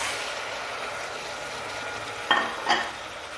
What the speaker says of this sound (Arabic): نقلوها مليح مع هذاك الثوم والبصل